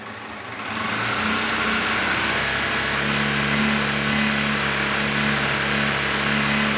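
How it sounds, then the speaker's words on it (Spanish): Honda CB250F motorcycle engine revving up from idle and holding a steady, loud, high-pitched drone with a constant tone. "vamos a pegar una acelerada."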